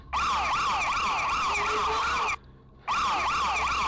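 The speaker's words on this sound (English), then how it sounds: "That siren you hear in the background is a panic alarm" A panic alarm siren wails loudly in a rapid rising-and-falling pattern, cuts out briefly, then resumes at the same volume, with a low hum beneath it.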